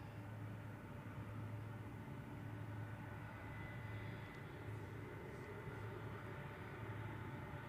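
An Edelweiss airliner landing at Zurich Airport gives a steady, distant jet roar with a broad rushing hum that holds evenly throughout, no voices heard.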